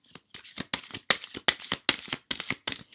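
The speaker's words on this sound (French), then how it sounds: "j'ai oublié de tirer une carte ici" A tarot deck is shuffled and a card drawn, giving a run of quick, crisp riffling bursts in close succession, each a sharp papery flutter separated by brief pauses, close and fairly loud with no talking.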